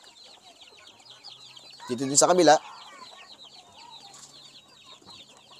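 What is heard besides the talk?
chickens clucking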